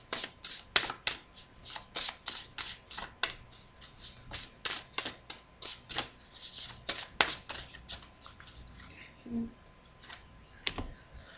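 Oracle cards with a kindness theme being shuffled by hand: a steady run of crisp, close riffling flutters and soft slaps, repeating in quick bursts with brief pauses, and no talking over it.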